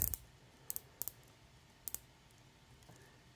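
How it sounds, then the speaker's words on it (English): The rotating bezel of a Seiko-style Pagani Design PD1726 watch gives a few crisp, close, light ratcheting clicks, in small paired bursts separated by quiet. "the bezel action looks like it's 120 click"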